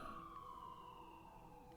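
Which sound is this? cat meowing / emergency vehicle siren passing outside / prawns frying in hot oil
emergency vehicle siren passing outside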